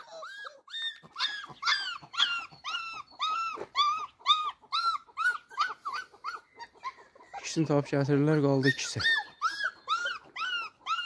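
A dog barks and yips excitedly in a rapid, high-pitched series of calls, close by, while someone talks over it.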